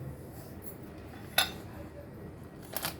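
A metal spoon clinking against a glass or bowl while mixing isabgol husk with chia seeds, two bright, brief clinks and a faint scrape over a quiet room hush.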